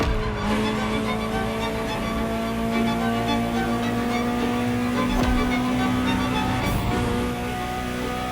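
A Ferrari supercar, a model from the 1984 Geneva Motor Show era, drives in The Crew Motorfest racing game, its engine droning loudly and steadily with a held tonal note and brief tire squeals.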